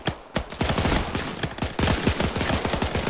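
Sustained suppressing fire in a WWII video game, rapid close-range machine-gun bursts hammering out in a dense, loud rattle with barely any gaps, alone with no speech over it.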